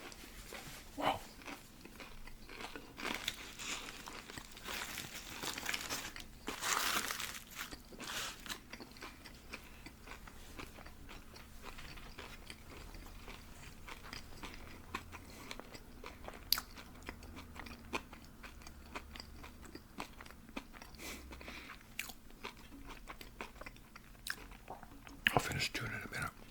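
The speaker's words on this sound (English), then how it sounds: "I'll finish chewing in a minute." Close, wet chewing and biting of a huge triple burger from Burger Factory, with crunchy bites and soft mouth sounds repeating irregularly while someone whispers in between.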